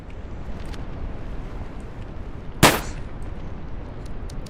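A single sharp gunshot from a winter survival video game rings out loudly once near the middle, with a low steady game rumble before and after.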